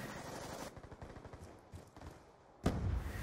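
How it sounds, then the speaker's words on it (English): Rapid bursts of automatic gunfire from a combat robot video game, loud and dense at the start, thinning into scattered shots, then a sudden heavy blast near the end. "Stop shooting bullets at me!"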